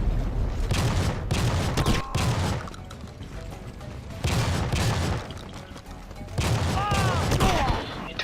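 Shotgun blasts in the video game Battlefield 2: Modern Combat, heavy booming shots in a few bursts amid game noise, loud and close.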